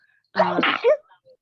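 A single sharp sneeze, close and loud, bursting out and fading within about half a second, with quiet surroundings before and after.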